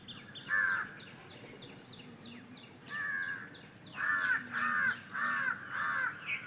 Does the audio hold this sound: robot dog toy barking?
no